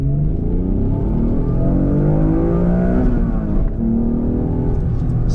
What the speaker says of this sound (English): Thank you, Ayrton Senna, the legend, for making this car drive so dang well.